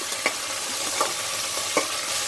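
Onion and curry leaves sauté in a pan for tomato rice, with a soft continuous sizzle and a few distinct spoon-stirring scrapes at regular intervals, no voices.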